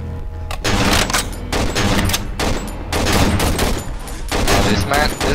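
Sustained, rapid gunfire from the video game Cry of Fear, loud and dense throughout with repeated shot bursts in quick succession.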